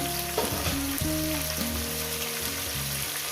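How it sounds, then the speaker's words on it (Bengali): Spices cooking down in a pan with tomato and green chilli for a fish-head chorchori, a loud continuous sizzle close up with occasional stirring scrapes and a low tonal hum underneath, no speech. "মশলাকে ভালো করে কষিয়ে নেবো"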